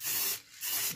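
Two short hissing sprays of finish onto a routed wooden plaque, close and fairly loud, each burst broken by a brief pause.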